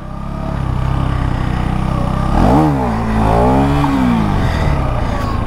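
A 2025 KTM Duke 390 motorcycle pulls a wheelie up through the gears toward fourth. Its engine drones steadily, then revs up and down in rising sweeps with a gear change, loud and close.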